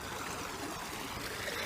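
A stream flows over wet rocks in a steady, soft gurgling trickle, fairly quiet and continuous for the whole short stretch with no one speaking.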